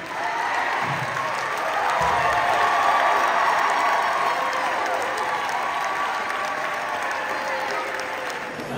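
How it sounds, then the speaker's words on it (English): Congregation at a Howard Homecoming chapel service claps steadily, a dense, even wash of applause holding at full strength throughout with a faint murmur of voices beneath. "If you clap"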